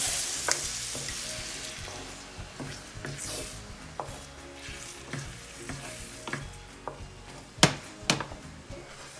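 Eggs sizzling in a pan with shrimp for a breakfast burrito, a soft steady fry punctuated by repeated scraping and tapping of a spatula against the pan, fairly quiet with no talk.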